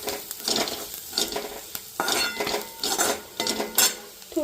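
A spoon stirring chilli and masala in a cooking pan, scraping and clinking against the metal in repeated strokes over a faint sizzle, close and fairly loud with no talking.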